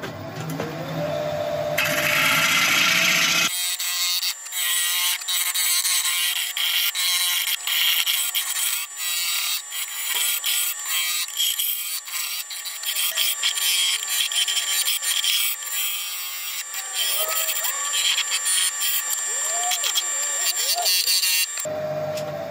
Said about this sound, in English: The advantage of turning green wood is that it just turns like butter.